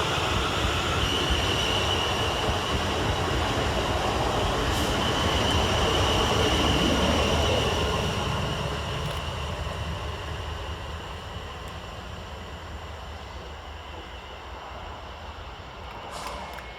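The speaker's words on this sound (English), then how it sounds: "Next to depart from the station is 450-003 and 450-027." A South Western Railway class 450 electric train departs Rowlands Castle station with a steady, loud rumble of wheels and motors that gradually fades as it pulls away, with faint squeals along the rails.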